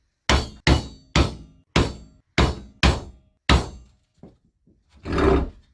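A hammer strikes metal body panel on an anvil in a home bodywork shop, seven loud ringing whacks in an uneven rhythm, then a few faint taps and a short rumbling scrape, close up.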